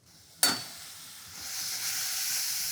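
Pressed mushrooms drop into a very hot pan with a sudden loud sizzle that settles, then builds again into a steady, bright frying hiss.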